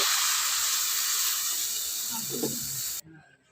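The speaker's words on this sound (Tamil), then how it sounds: "இப்போ ஒரு ஐம்பது கிராம் புளி கரைசல் எடுத்து வச்சுருக்குறோம் இதே ஆட் பண்ணிக்கலாம்" Tamarind extract poured into hot masala for a village-style sundakkai kuzhambu hisses and sizzles in a bright, steady close-up spray of sound, then cuts off abruptly near the end, leaving faint quiet.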